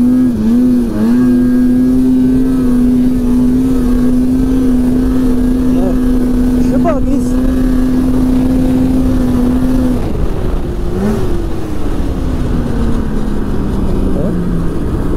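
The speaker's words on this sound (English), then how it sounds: "Pretty quick little sled." A Polaris Edge X 800 snowmobile with about 4,800 miles runs loud and steady on ungroomed fresh snow, its engine holding a high drone before dropping in pitch near the end, with wind rush throughout.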